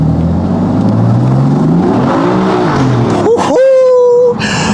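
A sports car engine in Sport Plus mode with traction control off rumbles low and steady, then revs up sharply into a rising whine, loud and close as though heard from inside the car.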